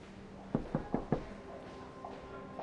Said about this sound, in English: Medicine Pocket is urgently knocking on her door.